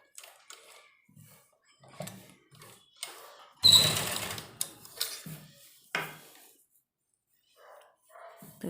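Sewing machine running in short bursts along the folded edge of pyjama fabric, with one longer loud run and several brief stitches separated by pauses, close by.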